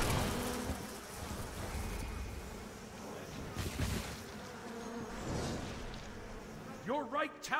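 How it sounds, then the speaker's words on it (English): A wall of bees drones in the video game Smite, a continuous insect buzz that swells and fades, with a voice coming in near the end. "The wall of bees."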